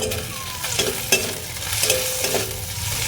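Steady sizzling of onions frying in a pan, with occasional scrapes and stirring clinks, loud and close.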